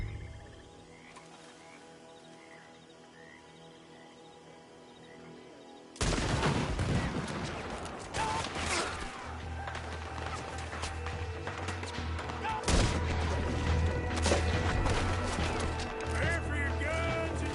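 Gunfire in Red Dead Redemption II breaks out after a quiet stretch, with rapid, loud overlapping shots, cracks and clatter continuing in a busy fusillade.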